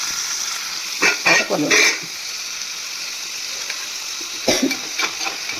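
Dried fish pieces frying in oil, a steady close sizzle under brief clattering stirs, with a few sharp bursts of louder spatter and scraping.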